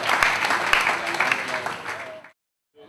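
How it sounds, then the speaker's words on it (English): An audience applauds for a couple of seconds at a capital markets event, the clapping steady and fairly close before stopping abruptly. "Can we give him a round of applause?"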